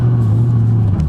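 A 2008 Ford Shelby GT500 Cobra Super Snake's 5.4L V8 with manual transmission rumbles steadily up close with a deep, throaty low drone while driving.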